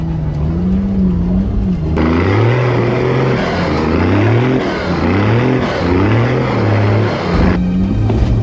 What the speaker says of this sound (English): The 80's struggling to keep idle at the moment.